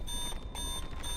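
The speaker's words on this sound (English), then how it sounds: "Alarms sound one after another." Alarms in the video game Love and Deepspace, a steady electronic beeping tone held over a dense noisy game soundscape, continuous for the brief moment.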